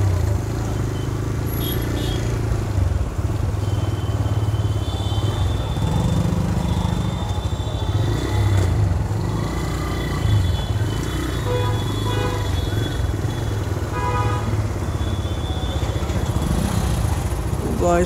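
TVS Apache 160 RTR motorcycle engine while riding, a continuous droning hum with passing traffic and occasional horn toots, heard steadily over the whole stretch.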